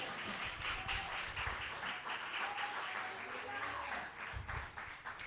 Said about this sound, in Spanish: ¿Cuántos dan aplausos al Rey de la Gloria?